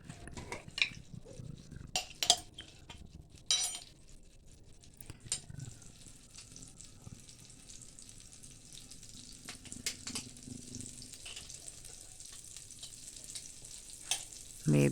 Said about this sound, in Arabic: في طاسة على النار كده هنزل فيها بمعلقة زبدة ومعلقة سمنة